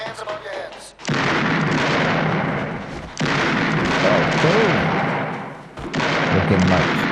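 Gunfire in a 1976 action film scene comes as sustained, loud booming bursts broken by brief pauses, with voices shouting among the shots.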